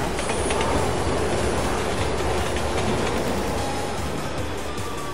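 A video game train rolls past close by, a loud, continuous rumble of wheels and carriages with faint squeals, lasting several seconds before easing slightly, with no talking.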